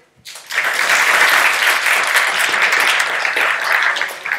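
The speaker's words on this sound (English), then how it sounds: "Can we get a round of applause for Reactor for the chocolate?" Conference audience applauding a sponsor at a talk on Angular application tuning, a dense burst of many hands clapping that starts abruptly and stays loud and steady without speech.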